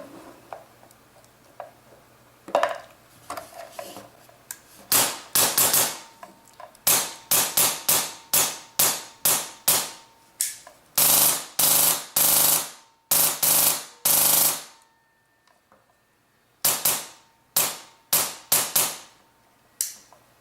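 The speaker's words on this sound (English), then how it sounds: "I'm going to do a couple shots." A Polarstar airsoft air engine firing shot after shot, dozens of loud, sharp close cracks in irregular bursts with brief silent gaps, no talk.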